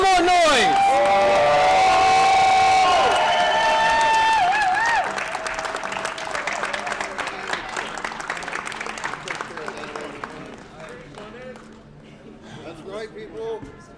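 Crowd at a Tetris championship qualifier cheering and applauding loudly, the roar peaking early then fading into scattered claps and whoops while a host talks over it.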